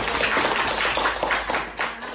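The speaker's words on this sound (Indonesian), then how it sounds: "Oke, tepuk tangan." Applause in a classroom during a lesson: a short burst of group clapping with audible individual claps, lasting about two seconds and fairly close, with no talk over it.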